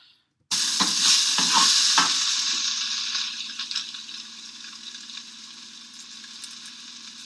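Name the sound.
spatula hitting frying pan, food sizzling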